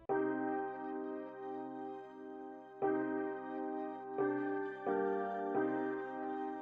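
Layered synth pattern built in Omnisphere and doubled with electric piano, playing sustained, harmonically rich chords that shift at steady intervals, a smooth beat-style loop heard alone at moderate level.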